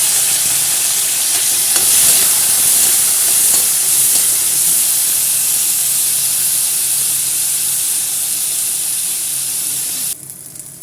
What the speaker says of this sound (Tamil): தேங்காய் புளியெல்லாம் சேர்த்து நல்லா வதக்கிட்டோம்